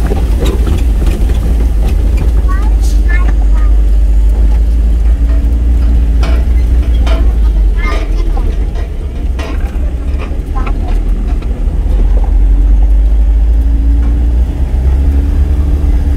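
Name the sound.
motorcycle riding on a steep rough road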